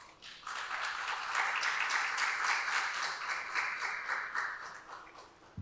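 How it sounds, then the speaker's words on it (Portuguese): Warm applause from an audience at a documentary launch honoring a local orator, rising quickly into a steady dense clapping that holds, then thins out toward the end. "eu gostaria de pedir uma salva de palmas para ele."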